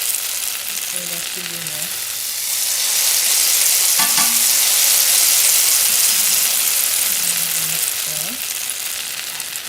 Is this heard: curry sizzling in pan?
yes